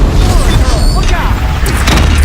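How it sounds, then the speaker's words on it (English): Deathbringer fire explosions from the final boss fight in the video game Horizon Zero Dawn: loud, dense booming and crashing with mechanical clatter that keeps going without a break. "Deathbringer fire incoming!"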